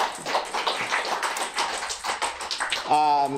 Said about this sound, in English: Another round of applause for Doug, please